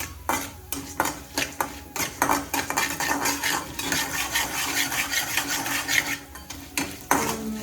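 A metal ladle scrapes and clinks against a pan while chana dal and urad dal are stirred, a steady run of close, sharp scraping strokes with brief pauses, no voices.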